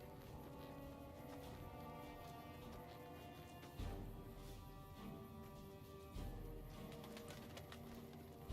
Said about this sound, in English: that bird, wasn't it?